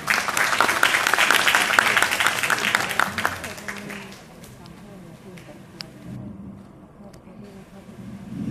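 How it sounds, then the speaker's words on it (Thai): An audience at a youth duo singing contest applauds to welcome young performers, dense loud clapping for about four seconds that fades into quieter room noise. "ขอเสียงปรบมือต้อนรับน้องๆด้วยค่ะ"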